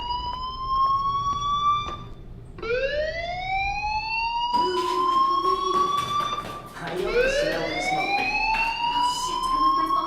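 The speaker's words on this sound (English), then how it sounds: "do you hear that fire alarm? That means you should be outside." Rising electronic siren-like fire alarm wailing in a school in Life is Strange, loud and close, its rising sweeps repeating over a busy background of footsteps and voices.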